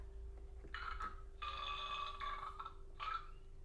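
A single loud, drawn-out burp after a fruity breakfast, rising in a few ragged bursts over about three seconds against a steady low hum, close and with no talking.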